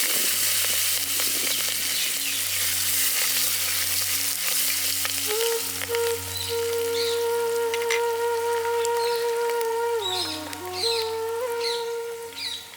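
Green chilies and curry leaves dropped into hot oil with a pinch of asafoetida, crackling and sizzling steadily and loud up close, while a tonal hum drifts through the background.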